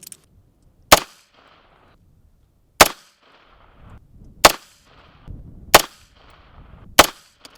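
Five suppressed rifle shots from a Bushmaster fitted with a MUTA suppressor, each a sharp, loud crack followed by a brief echo, evenly spaced about a second and a half apart, with no voices.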